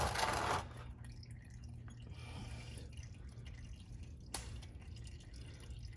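Engine oil trickling from the drain of a 2021 Power Stroke truck during a winter oil change outdoors, a faint steady liquid dribble with occasional drips, one brief louder splash near the start.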